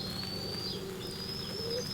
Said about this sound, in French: C'est une colombe, c'est un pigeon.